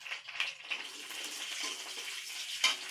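Whole garam masala spices sizzling in hot oil with garlic, a steady, soft crackle of frying broken by a few brighter pops and spatters, close and fairly quiet with no talking.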